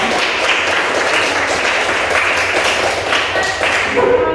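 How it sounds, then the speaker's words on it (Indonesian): A class of students claps for the teacher, a loud continuous patter of many hands close by, with a faint voice near the end. "berikan dulu tepuk tangan tuh"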